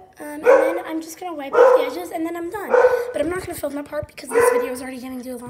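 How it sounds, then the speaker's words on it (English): A pet dog barks in a home kitchen, four loud, close yapping barks spaced about a second apart, heard under someone talking. "Sorry, my dog is barking."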